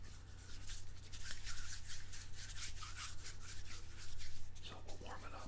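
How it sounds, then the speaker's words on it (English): Silly Putty is rubbed and rolled between hands to warm it, giving a soft, close, continuous friction and squish texture with faint irregular swells. "Now Silly Putty, I believe, works a lot better when it's warmed up."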